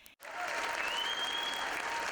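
A large crowd at a Donald Trump rally in Phoenix bursts into sustained applause after a brief pause, a steady, even wall of clapping with faint cheering that holds at full strength to the end.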